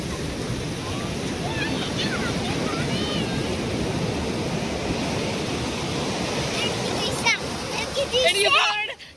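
Sea waves wash continuously onto a beach in a loud, dense rush, with children's voices and other talk heard faintly over the surf and a brief splashing flurry near the end.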